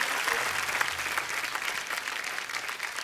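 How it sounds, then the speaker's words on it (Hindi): A studio audience at a Hindi comedy talk show claps in a dense, steady round of applause that runs the whole time, with no voices over it. "एक बार जोरदार तालियां हो जाएं हमारे तमाम कलाकारों के लिए।"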